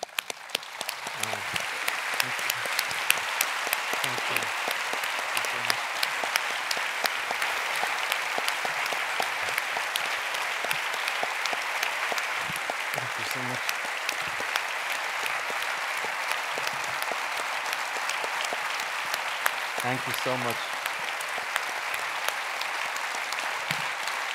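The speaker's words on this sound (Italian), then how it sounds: "E io aggiungo il mio applauso al vostro." Sustained audience applause at the Tiziano Terzani 2022 international literary prize ceremony, a steady dense wash of many hands clapping that runs unbroken and fairly loud throughout.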